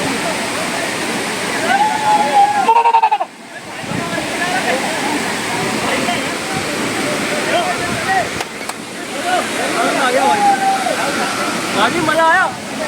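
Amargarh waterfall roars as a steady, full wash of falling water, close and continuous, with voices talking over it and a brief drop in the rush partway through.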